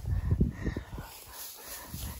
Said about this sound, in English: got my pup dog with us today. She's going nuts trying to get to the geese.